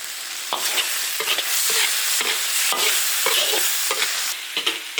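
Mapo tofu with chopped chili stir-frying in an iron wok, loud continuous sizzling broken by rhythmic scraping strokes of a spatula roughly twice a second, close and with no voices.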